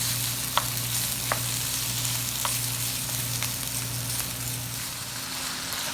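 Browning meat with onion, bell pepper and celery for collard and cauliflower dirty rice sizzles steadily and close in the pan, with a few sharp spoon taps as it is stirred over a low, constant hum.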